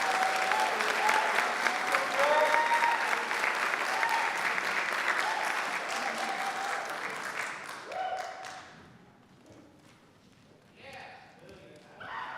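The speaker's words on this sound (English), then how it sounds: "Please join me in a round of applause" Sustained applause from the audience at a graduate school awards ceremony, broad steady clapping for about eight seconds with a voice briefly over it, then fading into scattered claps and quiet.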